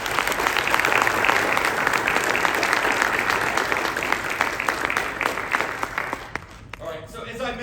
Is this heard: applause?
yes